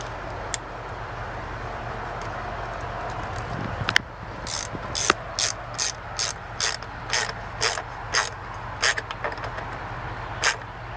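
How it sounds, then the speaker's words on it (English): A ratchet clicks in a series of sharp, evenly spaced bursts as it tightens a hose clamp on a plumbing fitting, close and distinct over a quiet background. "we'll tighten up the hose clamp"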